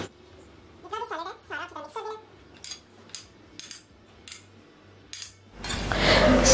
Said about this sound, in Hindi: अब इन सब चीजों को मैं मिक्स कर दूंगी।